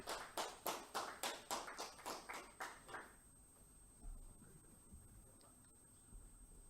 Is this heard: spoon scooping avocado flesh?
no